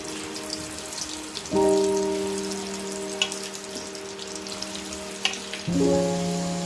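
Homemade french fries sizzle in hot oil, a steady crackling hiss that surges loudly as the potato pieces drop in, with occasional pops and a second burst near the end.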